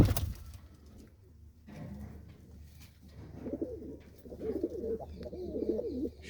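A pet high-flying pigeon cooing at close range, a few soft low throaty coos repeated in short phrases over quiet background hum.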